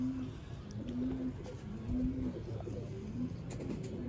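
Ferozpuri pigeons coo repeatedly in low, soft rolling calls, several birds overlapping at close range with a steady murmur of ambient noise around them.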